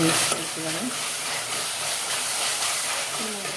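Spices with turmeric and coriander powder frying in a pan for mint pulao, a constant hissing sizzle with occasional stirring, while a voice talks faintly in the background.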